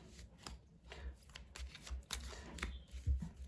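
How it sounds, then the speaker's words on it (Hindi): Tarot cards being shuffled by hand, close up, with a quick run of soft riffling and tapping bursts throughout, fairly quiet and with no talking. "तो जब तक कि मैं कार्ड्स की शफलिंग करती हूँ"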